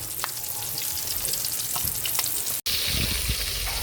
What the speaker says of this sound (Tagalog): Sinalang na po natin yung ating pritong pork chop.